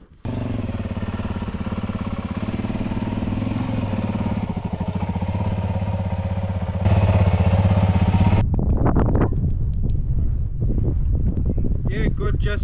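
Dirt motorbikes idle close by while being ridden up onto a trailer at a remote outback hotel recovery, a steady low engine throb that grows louder and rougher near the end, with wind buffeting the microphone.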